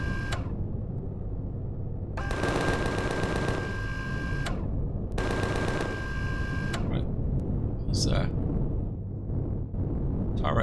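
Rapid turret fire in Empyrion Galactic Survival at an industrial fuel depot, two sustained bursts of fast repeated shots over a constant low rumble, followed by scattered lighter impacts and sharp blips.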